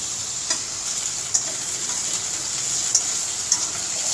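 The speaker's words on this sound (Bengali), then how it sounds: "এবার আলু পেঁয়াজটা একসাথে বেশ লাল লাল করে ফ্রাই করে নিতে হবে।" Potatoes and onions fry together in a pan with a constant close hiss of oil, punctuated by a few light spatula taps and pops.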